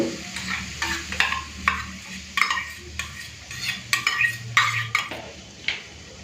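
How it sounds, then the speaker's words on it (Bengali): Masala spice paste cooked down in oil for doi bhetki, Bengali yogurt fish curry, with a spoon scraping and stirring against the pan in repeated strokes over a low, steady sizzle, close and moderately loud. "মশলাটা ভালো করে কষে নিয়েছি সাইড থেকে তেলও ছেড়ে দিয়েছে"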